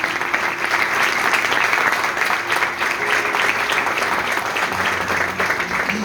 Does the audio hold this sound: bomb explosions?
no